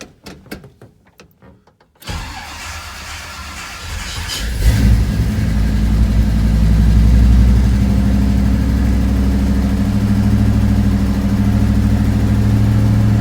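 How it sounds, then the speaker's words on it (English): A 1962 Chevy Impala, unused for a while after a fuel line repair, cranks with a few clicks before its engine catches and revs loudly, then settles into a steady, rumbling idle up close. "Let's see if I can turn the car on."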